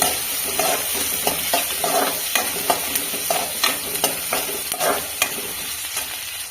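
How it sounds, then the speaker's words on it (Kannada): Green chillies and chopped onion fry in a pan for a village-style country chicken pepper roast, a close, even sizzle with rhythmic spatula stirs and scrapes recurring every half second or so. "ಇದಕ್ಕೆ ಹಸಿಮೆಣಸನ್ನು ಸೇರಿಸ್ತಾ ಇದ್ದೇನೆ ಆಮೇಲೆ ಅದನ್ನು ಚೆನ್ನಾಗಿ ಫ್ರೈ ಮಾಡ್ಕೊಳ್ಳಿ"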